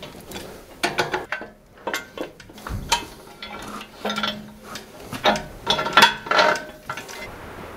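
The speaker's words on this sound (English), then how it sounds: "Okay, I got the bolts in on this top cross member right here." Metal tools clink and ratchet in irregular bursts while bolts are tightened on the top cross member of an Isuzu 4BD1T engine in a Hitachi EX120-2 excavator, close and moderately loud.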